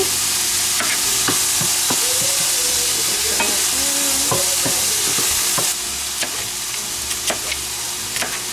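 Sausage frying in a couple of tablespoons of olive oil, a loud, continuous close sizzle broken by the scrape and clack of stirring with no voices.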